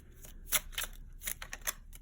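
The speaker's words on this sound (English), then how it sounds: "I'm going to pre-shuffle all my decks that I'm going to be using for this reading" Tarot card decks are shuffled by hand in a quiet room, a quick run of crisp riffling snaps and flicks in an uneven rhythm, close and soft.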